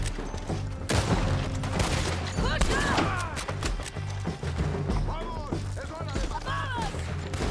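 Loud, sustained gunfire in the Red Dead Redemption 2 western shooter video game: rapid, dense volleys of shots with crashing impacts, running continuously over a constant low game backdrop, with a voice speaking intermittently underneath.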